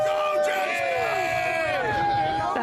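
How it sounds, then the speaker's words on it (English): Thousands of hockey fans packed into the downtown Winnipeg streets outside Canada Life Centre at night roar and cheer, with shrill whoops and yells rising over a dense, continuous crowd din. "Thousands of hockey fans packing the streets outside Canada Life Centre deep into the night."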